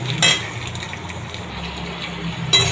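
Tomato pieces frying in a pan for an eggplant sweet-and-sour dish, a steady soft sizzle with light stirring and brief utensil clinks near the start and end, no talking.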